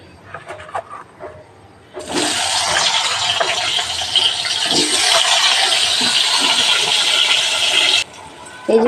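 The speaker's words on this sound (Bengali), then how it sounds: "আমি এবারে বেগুনগুলো ভেজে নেব।" Eggplant pieces frying in oil in a kadai, a loud steady hiss that starts abruptly, holds for several seconds close up, then cuts off, with faint clatter before and after.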